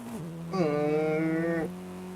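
Racing car engine in Forza Horizon 5, its tone dropping briefly, then surging into a loud, steady high-pitched rev for about a second before falling back to a lower drone.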